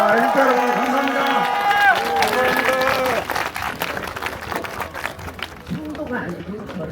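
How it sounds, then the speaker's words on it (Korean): Crowd applause and cheering at an outdoor election-protest rally in front of the Central Election Commission in Gwacheon. Clapping rises loudly, then thins, while voices talk over it. "그분을 위해서 박수 한번."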